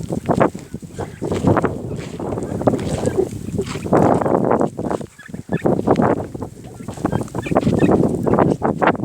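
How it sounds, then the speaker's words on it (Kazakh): Domestic turkeys of an American wild-type breed gobble repeatedly in bursts, loud and close, over wind noise on the microphone. "Күрке тауықты."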